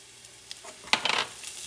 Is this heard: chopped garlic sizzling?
yes